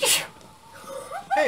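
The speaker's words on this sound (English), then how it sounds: "That was a big sneeze." A loud human sneeze bursts out at the start, followed by a gasping, startled voice and talk over video game sound.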